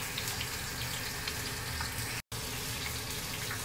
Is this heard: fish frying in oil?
yes